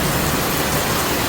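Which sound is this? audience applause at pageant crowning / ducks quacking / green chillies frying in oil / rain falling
rain falling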